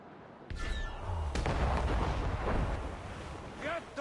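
Ship cannons firing in an Assassin's Creed naval battle, a few heavy booms over wind and wave noise, with shouted commands from the crew partly audible.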